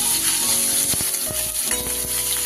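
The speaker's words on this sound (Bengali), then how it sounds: "পনিরগুলো হালকা হাতে এইভাবে একটু তেলে নাড়াচাড়া করে নেব" Paneer cubes gently stirred in hot oil for paneer singara: a loud, dense sizzle with scattered clicks and scrapes from the stirring, close and continuous throughout.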